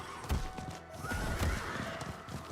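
A horse whinnies in the Subnautica 2 video game, a drawn-out neigh over a few soft hoof thuds, moderately near, with no talking.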